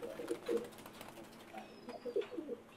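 Silver diamond doves kept as breeding pairs coo in soft, low, rounded bursts, a few close calls grouped at the start and again near the end, with faint chirps between them and no talking.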